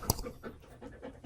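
Tux, a dog just back from a walk, pants hard in quick, rhythmic breaths, close but fairly quiet, with no talking.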